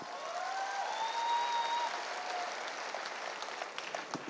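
An audience at a direct selling wellness company event applauds an achiever. The clapping is fairly quiet and continuous, with a thin tonal whistle or feedback drifting over it early on, and it thins out toward the end.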